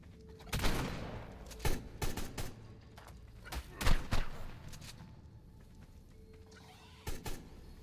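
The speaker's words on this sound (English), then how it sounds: "Loving the sound of those bullets flying, boys and girls." Gunfire with bullets flying inside a tight cave, sharp loud cracks in bursts and single shots spread across several seconds, echoing between quieter gaps.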